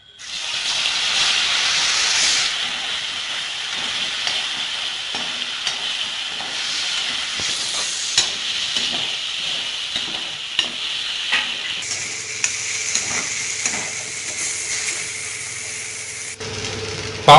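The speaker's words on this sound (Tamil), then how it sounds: "இப்போ எண்ணெய் சூடானதுக்கப்புறம் இந்த பாவக்காய் எடுத்து அதில் போட்டு ஃப்ரை பண்ணிடுங்க" Bitter gourd pieces fry in hot oil, a steady bright sizzle with repeated stirring clatters and scrapes, close up, the hiss shifting slightly partway through.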